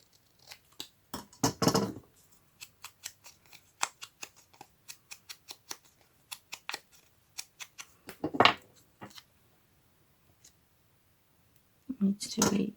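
Scissors snipping along the edges of paper in a series of short, crisp, close cuts, with a couple of louder rustling bursts between them.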